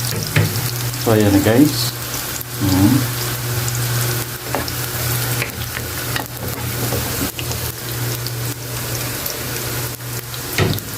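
Garlic frying in a pan for squid adobo, a steady broadband sizzle with scraping stirs running throughout, a brief spoken voice near the start and a low steady hum underneath.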